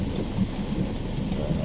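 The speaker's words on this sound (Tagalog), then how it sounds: "Ayan po, lakas ng ulan dito." Steady, dense downpour of heavy rain on a road trip from Batangas to Mandaluyong, a continuous broadband hiss with no voices, loud and close throughout.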